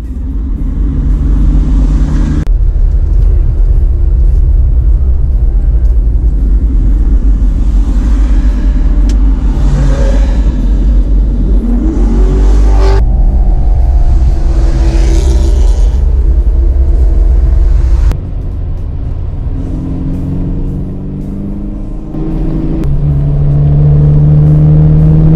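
A Maserati's engine growls loudly and steadily in a road rally through the Provence countryside, a deep continuous rumble with rising revs and shifts, close by throughout.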